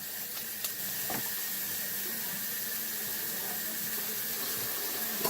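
Tap water runs steadily into a kitchen sink as a knife is rinsed after cleaning a cutting board, a soft continuous hiss and splash with faint clinks near the start.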